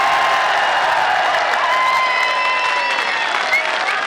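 Large crowd at a political rally in Mianwali, Pakistan, applauding steadily: dense, continuous clapping with scattered whistles and cheers, loud and sustained throughout.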